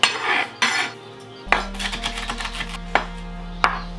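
Knife cutting a red bell pepper into equal strips on a board: several sharp, close chopping knocks spaced irregularly, with faint clatter of utensils and a low hum underneath.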